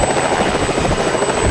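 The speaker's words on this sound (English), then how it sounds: "private jet, and personal helicopter" A personal helicopter flies close by, its rotor and engine making a loud, steady, unbroken drone with no voices.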